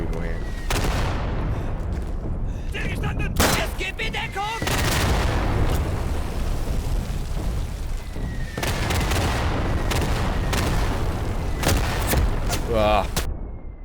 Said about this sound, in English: let me see if I can rifle grenade some people here